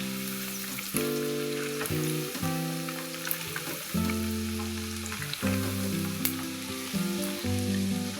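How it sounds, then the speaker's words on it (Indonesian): Chicken sizzles and crackles steadily in hot oil, frying until cooked and slightly crisp, a constant frying hiss with soft background music playing underneath. "selanjutnya akan kita goreng hingga ayam matang dan sedikit kering"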